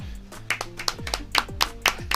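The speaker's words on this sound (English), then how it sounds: "just a nice little applause as he walks in, Hayden here" Spectators at a girls' all-star high school soccer match give light applause as a player walks in, a short run of scattered, fairly close hand claps at an uneven rhythm.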